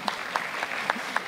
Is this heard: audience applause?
yes